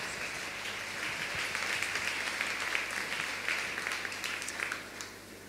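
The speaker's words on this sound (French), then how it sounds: "sous vos applaudissements." An audience applauding at a one-mom stage show, a steady wash of clapping that rises and holds for several seconds before easing off.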